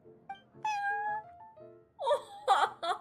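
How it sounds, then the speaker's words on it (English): A cat meows repeatedly in the Genshin Impact game, at the Cat's Tail tavern: a soft, clear mew is followed a moment later by several louder, higher, wavering meows, all close and with no talk over them. "That was such an adorable meow."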